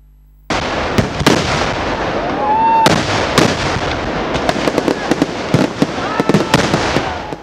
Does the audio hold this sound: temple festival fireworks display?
yes